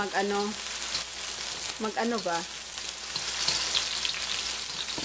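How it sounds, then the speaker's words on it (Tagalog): Garlic and onion sauté in a pan with a soft, continuous sizzle, and a voice speaks briefly near the start and again around the middle. "ginigisa ko lang yung garlic at saka onion pag nag-brown na siya"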